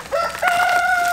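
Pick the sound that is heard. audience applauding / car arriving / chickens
chickens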